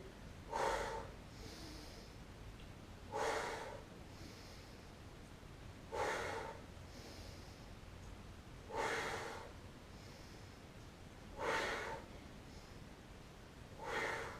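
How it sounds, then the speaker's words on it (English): Deep breaths drawn in and pushed out during a floor workout, about six close, airy bursts spaced roughly two and a half seconds apart over quiet background, with no talking. "Big breath in and exhale"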